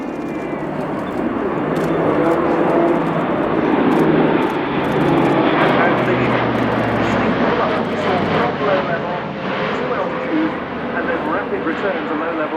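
An Airbus A400M Atlas military turboprop transport flies low at an air show, a loud, sustained propeller drone and roar that swells and recedes, with an announcer talking over it and crowd noise.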